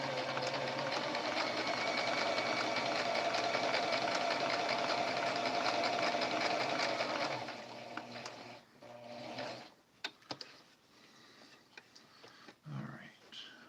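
Sewing machine stitching fusible-backed appliqué quilt blocks, a steady loud whirring run for about seven seconds, then stopping into quieter handling noises and a few short bursts.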